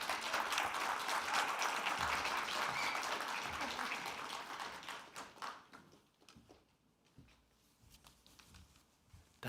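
Applause from a graduation-ceremony audience welcoming a speaker to the stage, dense and sustained for about five seconds before thinning into scattered claps and fading away.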